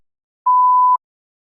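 A single clean electronic beep, a steady mid-pitched tone lasting about half a second, sounding alone against silence.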